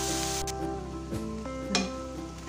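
Chopped tomatoes sauté in a pan over a medium flame, giving a steady close sizzle with a few scraping stirs and clinks, and no talking.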